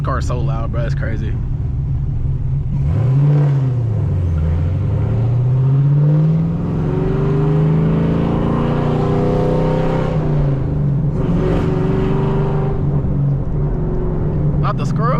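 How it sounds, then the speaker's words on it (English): A loud cammed Chevrolet Camaro ZL1 engine heard from inside while driving, its revs rising, dipping and climbing again in a rough, throbbing drone, with people talking over it. "This car is so loud, bro. It's crazy."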